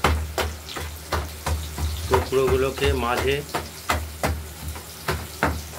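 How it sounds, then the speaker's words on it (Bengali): Stuffed ash gourd pieces filled with green chilli and poppy seed paste fry in hot oil in a wok, a steady close sizzle with crackling bursts as a voice talks over it. "লঙ্কার পোস্ত বাটার পুর ভরে ভাজা কড়াইতে আমরা তেলে ভেজে নিচ্ছি।"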